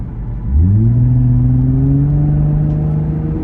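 A Nissan 350Z V6 engine revs up sharply from idle, then holds a steady, deep, smooth drone with rising harmonics, loud and close.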